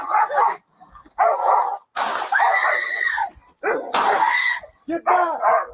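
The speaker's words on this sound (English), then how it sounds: "Let go of the dog." A dog barks repeatedly and loudly in short, close bursts with some yips and whimpers during a tense police confrontation, with gaps of quiet between the barks.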